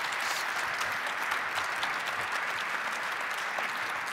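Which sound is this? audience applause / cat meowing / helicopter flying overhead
audience applause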